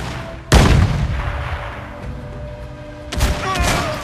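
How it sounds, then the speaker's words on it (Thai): Two loud, booming explosions in the game Crysis, the first sharp blast fading into a long rumble before a second burst hits near the end. "โอ้โหระเบิด"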